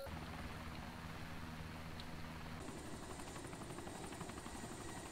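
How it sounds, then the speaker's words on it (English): A helicopter's steady rotor thrum and whine drone on continuously in the video game DayZ Overpoch mod, fairly faint, with a high tone joining partway through and no talking. "Bye helicopter."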